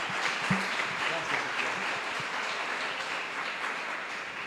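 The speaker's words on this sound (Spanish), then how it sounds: "un aplauso para él" Congress audience applauds a speaker in a hall, a steady rain of many clapping hands with a few sharper nearby claps and faint voices underneath.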